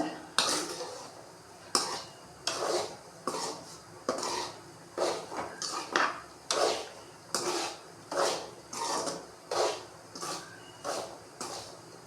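A thick millet flour halwa mixture is worked with a spoon in a vessel, giving repeated scraping, rubbing strokes against the metal in a steady rhythm, close and fairly loud, with no talk.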